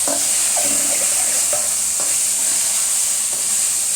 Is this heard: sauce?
yes